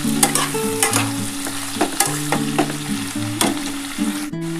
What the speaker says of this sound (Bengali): আলু, মূলো, শিম আমি একসাথে ভেজে নিয়েছি।